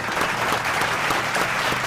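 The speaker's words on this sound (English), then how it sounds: "A round of applause for Galaxy JAMB College." A debate audience breaks into a dense burst of applause, many hands clapping loudly and steadily from start to finish with no voices over it.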